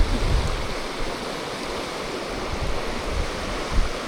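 A tiny creek on a steelhead river flows steadily nearby, a broad, even rushing and gurgling of water with no voices over it.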